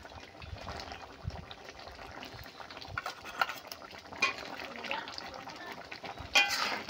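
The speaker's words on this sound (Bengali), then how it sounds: "দিয়ে এইভাবে নেড়ে চেড়ে একটু" A spoon stirs egg and soybean curry in a pan, with soft scraping and light clinks against the metal over a faint sizzle, growing a little louder toward the end.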